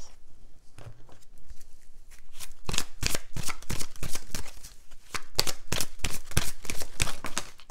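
Tarot cards shuffled close by in quick bursts of crisp riffling patter, repeated several times with short pauses between, no voices.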